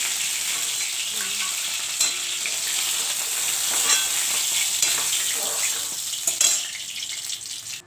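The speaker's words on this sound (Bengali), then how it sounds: "ভোলা মাছ ভাজা হয়ে গেছে, তুলে দিচ্ছি" Bhola fish sizzling as it fries in hot oil, a steady crackle and hiss with scattered sharp pops and a few clinks of utensils, close and continuous throughout.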